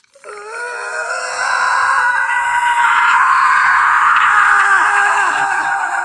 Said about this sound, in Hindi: फोन के स्पीकर से एक बहुत तेज चीख निकलती है